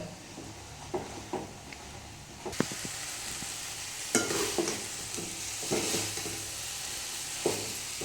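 Greens sautéing in a pan for a Tamil-style chutney, with a steady sizzle and frying hiss under repeated scraping stirs of a spatula against the pan, fairly quiet and without any talking.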